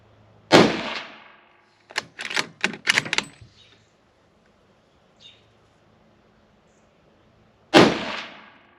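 A Ruger American Ranch rifle in 7.62x39 is fired while being sighted in at an outdoor range. Two sharp, loud shots sit several seconds apart, with a quick run of mechanical clicks from the action between them.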